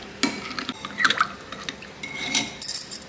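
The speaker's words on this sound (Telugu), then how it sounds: "బాగా మిక్స్ చేసుకోవాలండి బెల్లం కరిగేదాకా." A spoon clinks and scrapes against a glass or vessel while stirring jaggery into panakam, a sweet drink, producing irregular close metallic taps and swirling liquid sounds with no talking.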